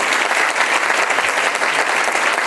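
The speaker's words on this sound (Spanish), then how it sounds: "Fuerte el aplauso del pueblo." A church congregation at a Catholic service breaks into loud, sustained applause, dense clapping from many hands filling the full few seconds at steady strength, with no speech over it.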